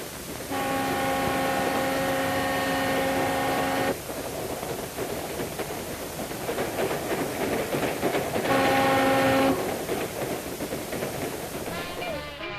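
A Santa Fe El Capitan high-level passenger train rumbles past with steady clattering, and two long harmonic horn-like tones sound, one early and one later, over continuous rail noise.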